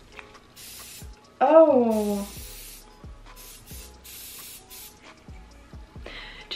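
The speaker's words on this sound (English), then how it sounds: "I'm just gonna use some hairspray on the ponytail" An aerosol can of hairspray sprayed onto a ponytail, one loud close hiss lasting under a second, then quieter short bursts and rustling; a voice briefly exclaims.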